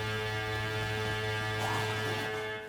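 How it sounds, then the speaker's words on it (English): A crashed UFO on Polar Peak in the Zombies in Spaceland game gives off a sustained electronic drone with steady tonal layers, loud and continuous, swelling briefly before it fades. "the UFO that's crashed into the Polar Peak begins to play some tones that sound like this"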